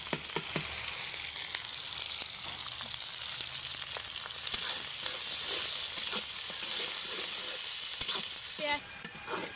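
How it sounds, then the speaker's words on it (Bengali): Onions, chilies and cinnamon fry in hot oil in a pan, giving a steady loud sizzle that runs throughout with occasional stirring scrapes, no voices. "পেঁয়াজগুলো কিন্তু আমি একেবারে বাদামি কালার করে ভেজে নেব"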